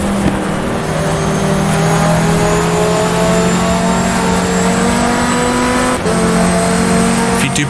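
Race car engines in the GTR2 racing game while passing a Porsche: a loud, steady high-pitched engine drone holding close and constant, its pitch shifting slightly with a brief gear change, and other cars whining along beside it.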